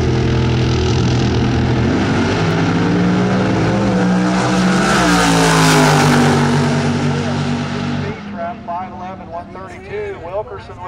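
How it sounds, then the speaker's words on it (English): A drag racing dragster with a 482 big block engine roars hard and loud down the strip, the pitch climbing as it passes, then fades. A track announcer's voice continues over the fading noise. "Dragster running the 482 big block under the black mailbox."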